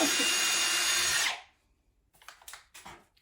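A power drill driving a screw whirs loudly for over a second, then cuts off, followed by a few faint clicks and short bursts of sound.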